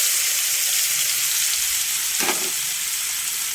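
Sliced onions go into hot oil seasoned with turmeric and fenugreek for a prawn curry, a continuous bright sizzle with a brief louder hiss and clatter midway.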